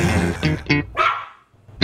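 A dog barks close and loud, about four quick barks followed by a short whimpering yelp, with no speech.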